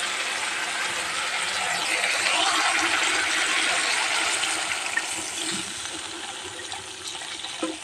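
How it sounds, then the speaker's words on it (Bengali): Water poured into a pan of fried spice paste, giving a steady broad hissing, sizzling wash that holds loud for several seconds and eases off slightly toward the end, no speech. "এবার জল দিয়ে দেব।"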